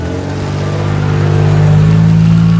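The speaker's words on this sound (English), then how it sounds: "Car." A car engine revs up in a children's alphabet cartoon, a steady close hum rising in pitch and loudness over a couple of seconds.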